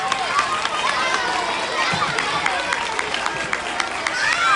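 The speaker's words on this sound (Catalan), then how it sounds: "un fort aplaudiment per ells" An audience at a school music day applauds and cheers for the students, a dense wash of clapping with crowd chatter and shouts mixed in.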